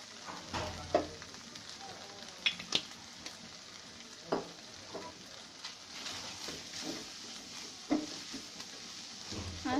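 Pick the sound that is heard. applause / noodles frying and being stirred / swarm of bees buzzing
noodles frying and being stirred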